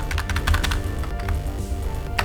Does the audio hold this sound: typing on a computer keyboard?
yes